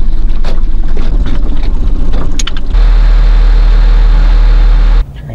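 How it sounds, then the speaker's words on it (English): A small boat engine is tested before heading down a river, running loud and close with a steady low rumble that shifts to a smoother drone midway and then drops sharply near the end, with no talking. "it's nice to test this engine before we start heading down the river"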